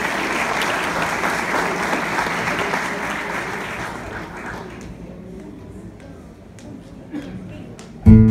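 Audience applause for a cuatro player and her accompanying musicians at a 2019 tribute concert at an engineers' association, loud and dense at first, thinning into scattered claps before a sharp knock at the end.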